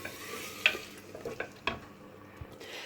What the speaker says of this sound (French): Je vais ajouter les tomates râpées pour que l'oignon ne brûle pas.